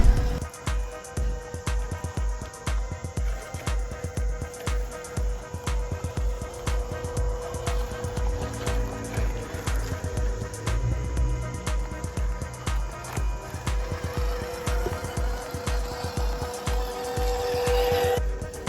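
A cheap MN78 RC crawler car grinds over obstacles, its electric motor whining steadily with rapid rhythmic clicking and rattling from the drivetrain, continuous and close throughout.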